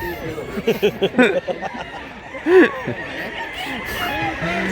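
A chicken clucks in short, close bursts at a rooster market in Mantalungon, Barili, Cebu, with one louder squawk midway; a voice speaks briefly alongside the birds.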